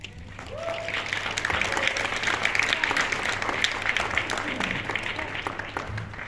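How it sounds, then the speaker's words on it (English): Audience applauding in a hall after a young poet's reading at a community gathering, a steady, dense wash of clapping that holds evenly for several seconds. "Another round of applause, please."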